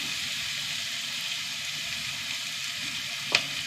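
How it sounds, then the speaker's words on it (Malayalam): Onions sauté in a pan with a soft, even sizzling hiss that holds steady throughout, close and moderately loud, broken once near the end by a single sharp click. "സവാള ഒന്ന് വാടി വരട്ടെ."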